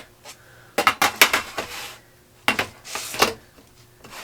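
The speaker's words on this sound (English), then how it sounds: "It's a lot easier to handle these 4 springform pans when I put them on a cookie" Four metal springform pans clank and rattle against a cookie sheet as they are handled, two bursts of bright metallic knocks and scrapes separated by a short pause, close and fairly loud with no talking.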